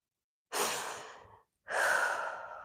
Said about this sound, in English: Two more big breaths.